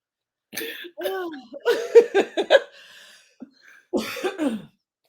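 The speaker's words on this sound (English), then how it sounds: "That was a smoker's cough." A raspy, phlegmy smoker's cough bursts out in a short series of hacks, followed by a pause and then another rough fit of coughing, close to the listener.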